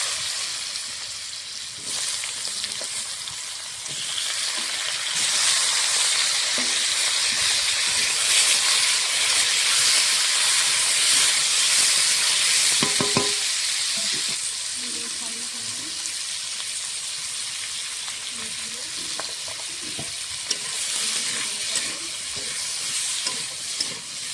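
Five-spice tempering and two green chillies sizzle in hot oil for a fish curry with an unnamed vegetable, a steady broadband crackle with stirring clinks and scrapes running throughout, close and fairly loud.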